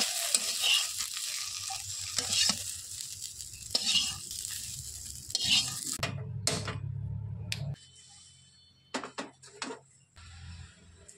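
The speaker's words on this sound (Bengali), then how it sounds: "আর এইবারে কড়াইতে দিয়ে দিয়েছি একটুখানি তেল আর সেই ভেন্ডিগুলোকে সুন্দর করে ভেজে নেব" Okra pieces fry in a little oil in a wok, giving a steady close sizzle with bursts of stirring and scraping. The frying grows quieter partway through and sounds more sparse toward the end.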